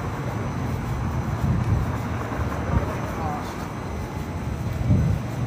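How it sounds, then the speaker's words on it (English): Low-flying airplanes pass close overhead at an outdoor fan convention, a heavy rumbling engine drone filling the scene, steady with slight swells, while people talk nearby. "Sounds of planes up close, I'd be concerned."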